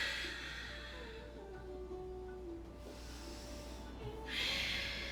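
A yoga class breathes together in a vinyasa session, with soft, airy exhales and inhales rising and falling in long breathy swells. A louder, hissing breath comes near the end.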